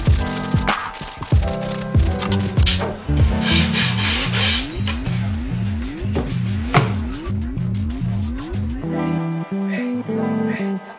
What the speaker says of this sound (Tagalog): kailangan muna natin itong lihain upang mawala ang mga himulmol